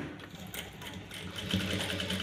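A sewing machine stitches sponge onto blouse lining cloth, a fast steady whirring run of needle strokes heard up close.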